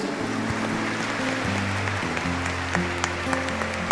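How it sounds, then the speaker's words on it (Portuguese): A church congregation at a Lenten Sunday evening Mass claps together in a steady, even wash of applause, with a sustained organ or keyboard chord progression playing underneath. "Dê uma salva de palmas para Jesus."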